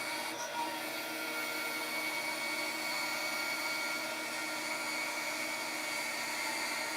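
Power tool trimming excess wood off a knife handle held with brass pins on a blade made from a tablesaw blade, a steady whining grind heard close and unbroken throughout.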